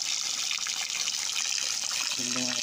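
Steady rushing water flows continuously from a natural spring beside a river on farmland, with a low tonal hum creeping in near the end.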